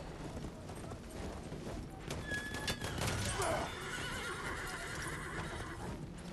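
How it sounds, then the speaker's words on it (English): A horse neighs loudly during Battlefield 1 cavalry gameplay, with clip-clopping hooves and battle noise around it and a high whinny rising near the middle. "that horse gets so intense sometimes. He does not like to be shot."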